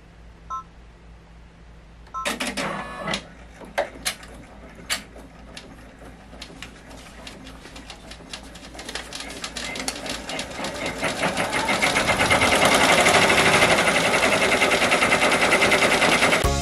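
An embroidery machine stitches a design onto a hat: after a quiet start with a few clicks, a fast rattling mechanical stitching begins and grows steadily louder and denser toward the end.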